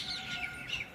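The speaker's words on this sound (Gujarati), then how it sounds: "કાગડા અને કાબરો બહુ આવી જાય સવારમાં" Crows and mynas calling in the morning: a faint, brief burst of chirping, warbling bird calls lasting about a second.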